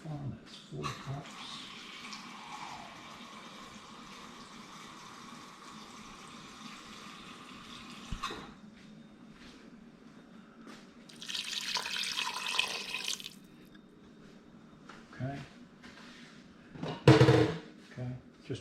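Filtered water pours from a tap or jug into a soup pot in a kitchen, a quiet steady trickle with a few louder bursts of splashing, and a voice speaks now and then.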